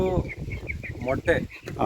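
Chickens on a poultry farm cluck in short, repeated bursts close by, mixed in with a person talking.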